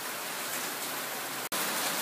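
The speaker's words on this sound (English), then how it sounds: "Bloody pissing down rain outside. It has been all day." Heavy rain pours down outside a machining workshop, a steady broadband hiss that fills the whole stretch, with only a very brief dropout near the end.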